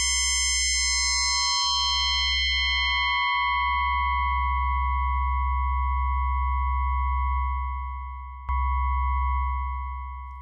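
FM synthesizer tone with its modulation depth being reduced, a steady bright bell-like pitch over a strong low drone, with upper overtones thinning out and a brief click near the end.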